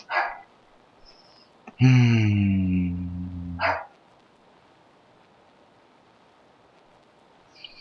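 A dog barks in one sustained burst of several overlapping, loud barks indoors, then goes quiet, with faint room noise before and after and a brief muffled sound near the end.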